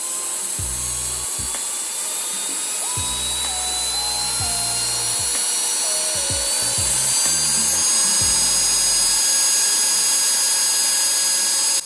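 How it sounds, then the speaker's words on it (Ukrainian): An electric motor powered from a DIY bench power supply, starting at 6 volts, whines continuously, its high-pitched hum climbing gradually in pitch as the voltage rises and it speeds up, with low knocking thuds in between. "Зараз двигун працює на 6 вольтах."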